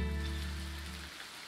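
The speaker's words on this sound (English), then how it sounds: "Oh, is it raining?" Rain in the farming game Coral Island, a soft steady patter of drops on surfaces, faint and continuous, alongside sustained tonal background music that drops away near the end.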